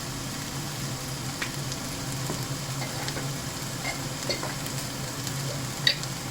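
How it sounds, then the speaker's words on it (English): Spices get a quick stir in a hot cooking pan over a low, constant sizzle, with faint scrapes and small ticks of the spoon. The sound stays steady and close, and nobody talks. "So there, one quick stir"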